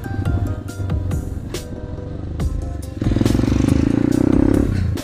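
A supermoto motorcycle rides along a rough city road, its engine droning steadily, then growing louder and rougher as it picks up speed, with rattles and scrapes over the motor.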